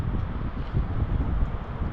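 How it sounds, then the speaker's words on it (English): Steady low rumbling wind buffeting the microphone, constant and fairly loud throughout with no voices. "Sorry if it's really windy."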